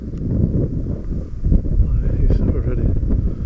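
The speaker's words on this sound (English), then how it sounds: "Oh, this wind is still icy, icy cold." Icy cold wind blows hard across an exposed spot in County Donegal, a loud continuous rumbling buffet on the microphone with gusts and rustling throughout.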